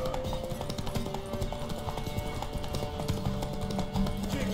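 Horse hooves clip-clop steadily in The Witcher 3, a close, continuous rhythm of hoof strikes with game ambience underneath.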